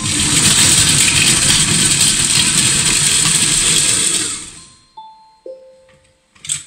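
Food processor chopping onions at speed 5 in a home kitchen: a loud, steady whirring roar runs for about four seconds, then winds down, followed by a few brief clicks and clunks as the machine stops.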